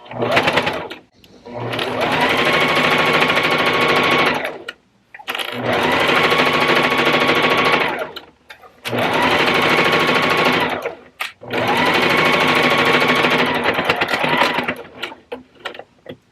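A sewing machine base-stitching fabric tunnels onto a reusable gift bag at an eighth-inch seam, running in four long steady bursts with short pauses between, loud and close with no talk.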